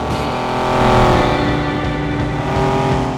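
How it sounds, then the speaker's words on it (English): A stock 3-liter flat-six in a 1980 Porsche 911SC, fitted with an aftermarket exhaust, revs with a rich, steady, loud hum that swells briefly before settling into a sustained drone. "It's a stock 3-liter flat 6, but when you start it with an aftermarket exhaust,"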